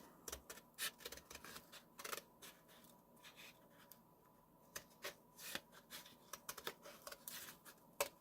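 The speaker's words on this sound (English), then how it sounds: "I'm just going to take a scissors." Scissors snip through material for an 18th-century style shot pouch, giving a quiet, close series of short, irregular cuts and rustles with brief pauses between them.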